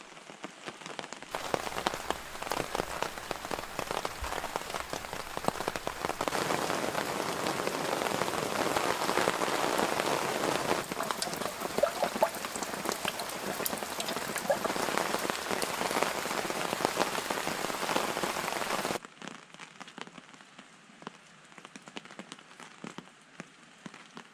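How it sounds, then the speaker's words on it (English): Steady rain drums on a tarp strung over a hammock at a rainy campsite, a dense close patter that holds for most of the stretch before dropping to a softer, thinner pattering near the end. "the noise of the rain hitting the tarp all night"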